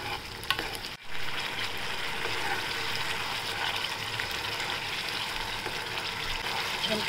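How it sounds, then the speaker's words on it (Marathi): Masala base for a green gram kofta curry sautés in oil with a continuous bright sizzle and stirring, with a brief clunk near the start and no voices. "आपल्याला थोड्या वेळ परतावं लागेल तेल सुटेस्तोपर्यंत"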